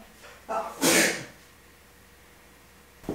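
A single sneeze bursts out close and loud, preceded by a short sharp intake, then quiet room tone with a brief noise at the end.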